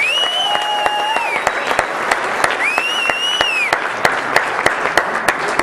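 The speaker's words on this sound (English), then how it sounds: "Kerry Cassidy. A big round of applause." An audience gives a steady round of applause for Kerry Cassidy at a UFO event, continuous clapping with a few sharp individual claps and two long whistles riding over the top.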